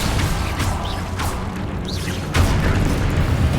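Spell explosions from the Hogwarts Legacy video game: a series of deep booms and crashing blasts with whooshing sweeps, arriving loud and close in quick succession.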